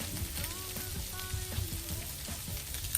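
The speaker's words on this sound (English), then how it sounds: "Listen to that sizzle." Eggs and hot dogs sizzle and crackle steadily in a hot pan, a soft continuous frying hiss with small pops throughout.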